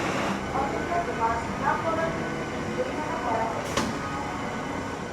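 Steady rumble of a local train in motion between Howrah and Santragachi, heard from inside a carriage, with faint voices murmuring in the background.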